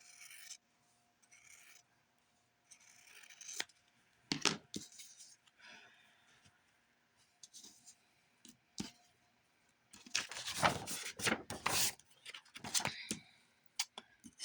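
Scissors cut through quilt fabric pieces in scattered bursts of snipping and rustling, with a longer, louder stretch of cutting near the end and quiet gaps between.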